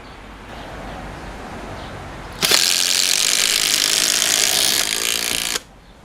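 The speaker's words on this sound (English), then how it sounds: "Let's drive a couple of screws and just see how much difference it actually makes." A Makita 18V drill driving screws while running on a weaker 14.4V battery: one sustained, loud whirring burst of about three seconds, with the motor loaded as the screw goes in, then it stops abruptly.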